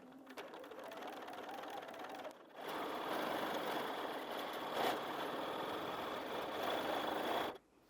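A sewing machine free-motion quilts with a stitch regulator, a short burst of running, a brief pause, then a longer steady whirring stretch that stops abruptly near the end, heard close and alone.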